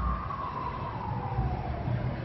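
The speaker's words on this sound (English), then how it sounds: "Hear that siren, make that video." A siren wails outside in the distance, a faint gliding tone drifting slowly downward over a low rumble of traffic and room noise, with no speech.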